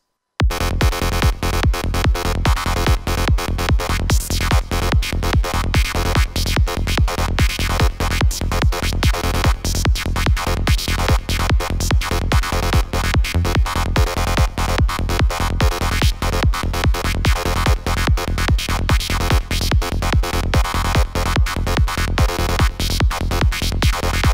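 A driving psytrance track: a rapid, pulsing Access Virus A synth lead pattern over a steady thumping kick and bass, loud and continuous with no voices.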